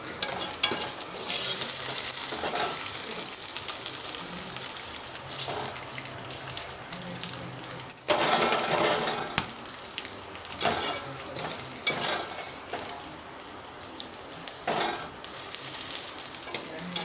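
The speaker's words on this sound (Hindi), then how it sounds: "प्याज हमारे फ्राई हो गए हैं।" Chopped onions frying in a pan while okra and onion cook, a steady sizzle with bursts of stirring and spatula scraping, loudest around the middle and late sections, with no voice.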